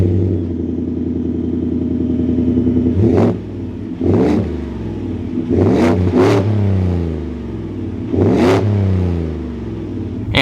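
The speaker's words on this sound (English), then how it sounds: "let's fire this F-150 back up now" A 2022 Ford F-150 XLT FX4 pickup idles loudly nearby, and its engine is blipped several times, producing short, sharp revving surges that quickly fall back to a deep, rumbling idle.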